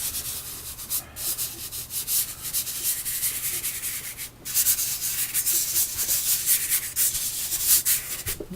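Pastel chalk scrubbed across paper while laying in clouds, a close, continuous dry scratching rasp in quick back-and-forth strokes with a few brief pauses.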